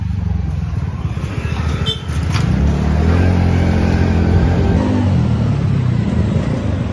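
A vehicle pulls up at a birthday party to be parked, its engine a loud, close, steady drone that swells slightly as it arrives, with a faint voice briefly under it.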